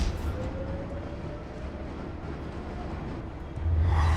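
Train departing in the video game Batman: The Telltale Series, a low continuous rumble with a thin whine running through it, swelling louder and heavier near the end.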